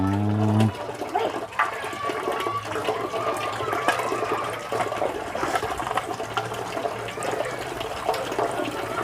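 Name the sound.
running water from tap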